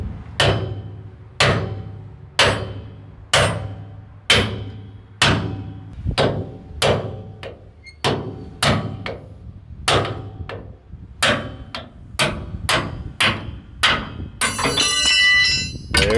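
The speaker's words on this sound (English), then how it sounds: "Where's that sledgehammer?" Sledgehammer pounding a torque arm on a 48-foot flatbed trailer: a steady series of about twenty loud, ringing metallic blows roughly once per second, growing quicker toward the end before a clattering scrape.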